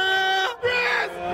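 Cricket crowd at a T10 tournament match, HYDE vs SCHEMAZ, cheering loudly after a big hit, a dense sustained roar of shouts and yells that dips briefly then swells again over the full moment.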